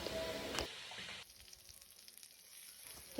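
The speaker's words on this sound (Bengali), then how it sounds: "মাছগুলো ভেজে নিয়ে শেষে আমি মাছের ডিমগুলো ভেজে নেবো" Fish roe frying in a pan gives a broad, close sizzle that drops sharply after the first second to a quieter, steady crackle.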